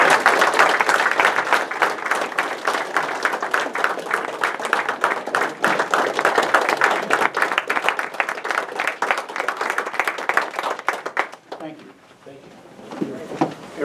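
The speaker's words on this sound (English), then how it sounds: "give James Jeff, and Steve a warm welcome and a big round of applause" Warm applause from an audience welcoming three people at a community event, dense steady clapping that carries on for over ten seconds before fading into a quieter room.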